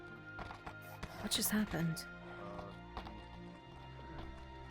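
Horse hooves clip-clop in a steady rhythm beneath ongoing talk and background music, the hoofbeats fairly close but partly masked by voices.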